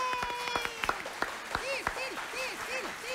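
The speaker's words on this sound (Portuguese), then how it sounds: "Aplausos pra Cecília Comel," A studio audience on a Brazilian celebrity-gossip TV show claps in short, scattered bursts while a presenter keeps talking over it.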